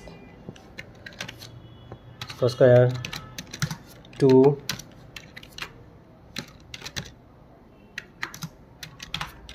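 Quick, light clicks of computer keyboard typing come in scattered bursts, close and crisp, while a voice briefly speaks twice in the middle.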